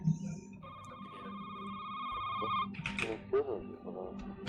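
A telephone rings in the video game Shift At Midnight, set in a gas station: a steady electronic ring heard close and clear while two players chat in French over it.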